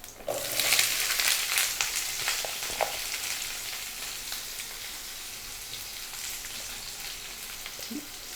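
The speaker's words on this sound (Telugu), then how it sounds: "ఒక నిమిషం వేయించిన తర్వాత దొండకాయ ముక్కలు వేసేసుకోవాలి" Pieces of ivy gourd frying in hot oil give a dense, close sizzle that is loudest at first and then settles into a softer, steady hiss.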